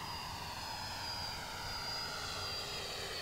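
An FMS 80mm electric ducted fan AV8R model jet flying overhead during stall tests, its steady high-pitched whine and rushing roar holding constant and moderately distant throughout.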